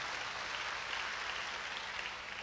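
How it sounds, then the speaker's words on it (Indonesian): A church congregation at a revival service claps and cheers in a steady, continuous wash of applause, fairly faint and even throughout, with no voices standing out. "Berikan tepuk tangan yang meriah buat Tuhan."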